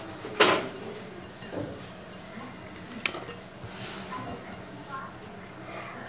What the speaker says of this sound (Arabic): نخلط جميع المكونات